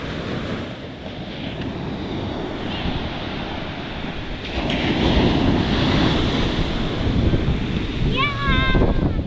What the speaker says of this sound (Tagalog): tingnan nyo mga kapings, ang lalaki ng alon